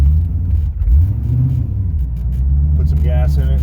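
A C4 Corvette rolls off with a low, steady engine rumble and a slight rise in revs, close and continuous, with talk over the top.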